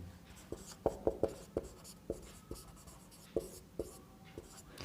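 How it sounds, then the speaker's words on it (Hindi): A marker writes on a board during a coordinate geometry lesson, with a series of short, sharp squeaks and taps arriving in irregular clusters, close and fairly faint, and no talk over them. "चलिए थोड़ा इस साइड लिखते हैं"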